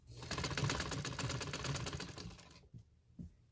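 A sewing machine stitches a trouser hem in a fast, steady mechanical rattle for about two and a half seconds, then stops with a couple of brief clicks as the presser foot is lifted.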